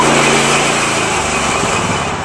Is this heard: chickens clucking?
no